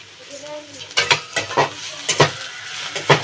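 Spices, cumin and coriander, frying in a pan for an eggless egg curry in an Odisha village kitchen, a crackling sizzle with a string of quick scraping stirs, close and fairly loud, and a brief voice at the start.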